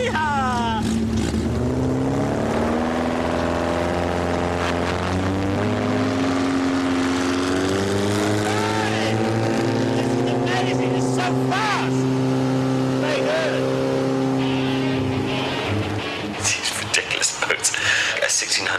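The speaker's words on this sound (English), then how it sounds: "Toyota 16 valve engine stuck on the back of a very thin wooden boat." Toyota 16-valve engine mounted on the back of a very thin wooden boat in Cambodia, droning loudly and continuously with rising and falling revs close by, while people talk and shout over it.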